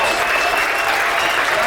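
A comedy show audience applauds for veterans in a dense, steady burst of loud clapping that fills the whole moment, with crowd noise mixed in.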